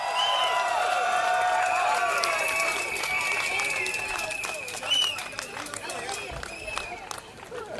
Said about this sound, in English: Young people, give yourselves a round of applause.